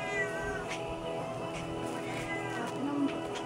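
A cat meows repeatedly at close range, with several drawn-out, wavering cries over steady background noise.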